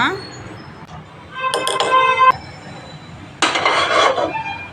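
A metal pot clanks and rattles as it is set down, followed by a second louder clatter a moment later, close by.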